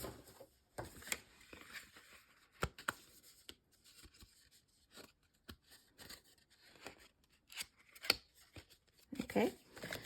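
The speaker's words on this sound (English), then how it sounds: "let me just trim this just a smidge more." Scissors make brief snips trimming craft material, quiet close-up cuts scattered irregularly among soft rustling and handling noises.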